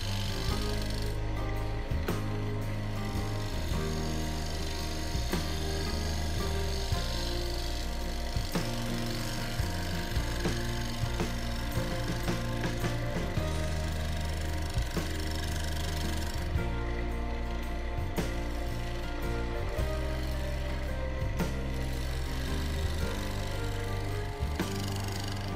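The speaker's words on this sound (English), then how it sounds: "Still using the spindle gouge, just decided to create a little bit of shape around the opening of the box." A spindle gouge shapes the opening of a wooden box on a woodturning lathe: a continuous motor hum under steady scraping and rubbing of the tool on wood, close and unbroken throughout.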